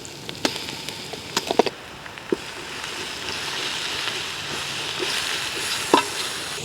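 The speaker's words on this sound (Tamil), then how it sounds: "போடுங்க, இஞ்சி பூண்டு விழுது போடுங்க." Ginger garlic paste hits a hot pan during village-style vermicelli chicken biryani cooking, giving a few sharp knocks and scrapes and then a rising, steady hiss of frying that fills the rest of the moment.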